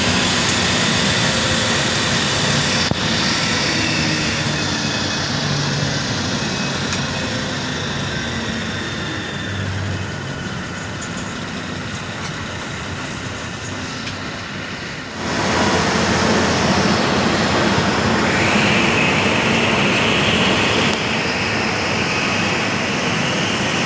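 An Akash Travels bus runs on the road from Coimbatore to Bengaluru, giving a steady loud engine and road roar heard from inside the cabin. The roar swells a little in the final stretch and no one speaks.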